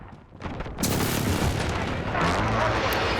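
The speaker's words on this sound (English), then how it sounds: "Enemy precision airstrike, take cover." Heavy explosions from a precision airstrike in a combat video game, a dense sustained barrage of booms and rumbling blasts that swells in loudness and rolls on continuously close by.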